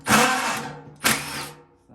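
A power drill backs screws out of a furnace blower motor in two short whirring bursts, each spinning up sharply and then winding down, close and loud.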